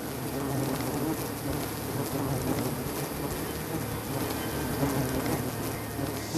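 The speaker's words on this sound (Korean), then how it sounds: "서서히 모습을 드러내는 야생 벌집." Wild bees swarm around an old, blackened honeycomb inside a hollow dead tree, giving a dense, steady buzzing drone that stays loud and continuous throughout with no voices.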